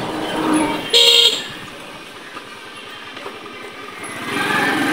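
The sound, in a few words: road traffic jam caused by jute trucks, horns honking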